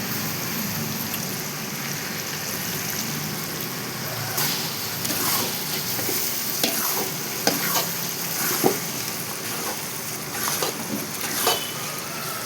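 A large pot of vegetable biryani with coriander leaves is stirred on a gas stove, steady crackling sizzle and grainy scraping throughout, with sharper clinks and scrapes of the spoon against the pot in the second half.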